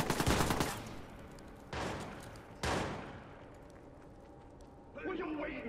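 Gunfire in the video game Watch Dogs on PS4 comes as three loud broadband bursts, each decaying into a noisy tail. Voices talk under the shots, with a later rattling burst near the end.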